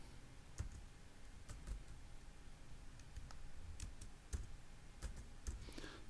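Quiet, close keystrokes on a computer keyboard, a handful of separate clicks and short taps spread irregularly through a faint background hum.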